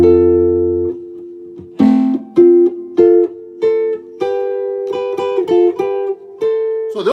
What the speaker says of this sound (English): So, those are arpeggios.